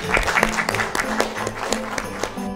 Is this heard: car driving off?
no